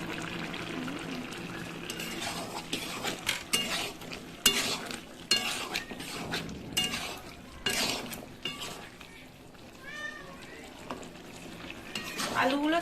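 A vegetable curry of winter vegetables and potatoes is stirred in a pot, with a spoon scraping and clattering against the metal in irregular strokes and a soft simmering bubble beneath. No one speaks.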